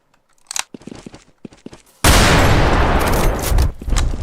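Rifle fire in a video game: a few quiet clicks and shuffles lead into a sudden loud, continuous burst of rapid gunfire that dominates the last two seconds.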